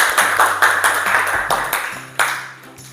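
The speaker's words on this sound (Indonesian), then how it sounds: "kelompok 1 silakan kembali ke tempat dan berikan tepuk tangan." A classroom of students claps for a group returning to their seats, a rhythmic patter of distinct claps repeating at an even beat, close and loud, with a faint tone underneath.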